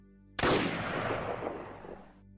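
A single loud gunshot cracks sharply out of silence, its boom decaying into a rolling echo over about two seconds.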